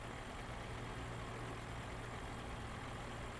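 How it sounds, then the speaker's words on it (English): Steady low engine drone from a truck in American Truck Simulator, played in multiplayer, a continuous idling rumble with no voices over it. "Do you hear my truck?"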